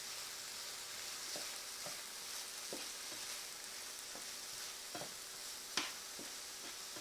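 Garlic, onion and chili peppers frying in a pan, a soft steady sizzle with a series of light scraping stirs at irregular intervals and one sharper clink near the end.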